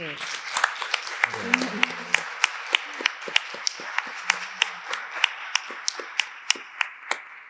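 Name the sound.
audience applause after a talk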